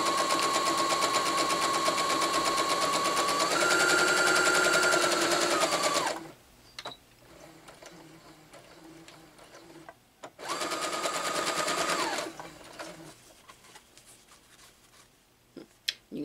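A domestic sewing machine stitches a quilt block, running steadily for about six seconds with a pitch rise partway, then stopping, quiet handling, and a second burst of stitching before falling quiet again.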